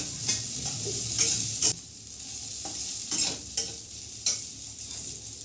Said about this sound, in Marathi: 1 मिनिटवर अशीच परतून घेऊ.